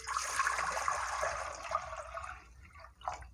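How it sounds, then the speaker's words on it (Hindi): Water pours steadily into a cooking pot for turnip and meat curry, a bright splashing stream for about two seconds that thins out, then a short final splash, with no talking. "अब हम इसके अंदर पानी डालेंगे।"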